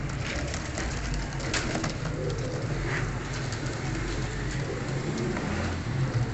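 Pigeons kept as pairs in a loft, mostly Kaldum and Lakha birds, make a steady, continuous low cooing that carries through the clip. Constant background noise sits underneath it, and no one speaks.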